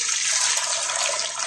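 Hot strike water pours steadily through a strainer into a homebrew mash tun during batch sparging, a loud continuous splashing rush of liquid lasting the whole moment, with no talking.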